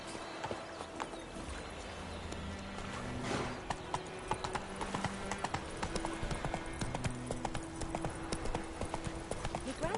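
Horse hooves from The Witcher 3 galloping in a steady clip-clop rhythm throughout, with in-game ambience and music underneath and no talk over it.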